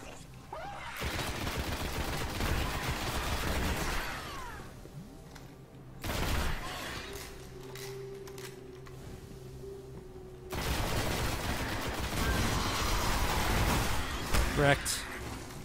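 Grenade blasts and bursts of gunfire from the video game Destiny, a Warlock playthrough, come in two loud dense stretches separated by a quieter lull with a steady hum, with some talk between them.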